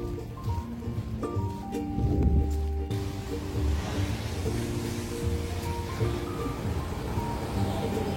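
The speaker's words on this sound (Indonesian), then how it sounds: "Hujan." Steady rain falls in Colombo, Sri Lanka, as a dense, continuous wash of hiss and rumble with a louder swell early on, and no voices over it.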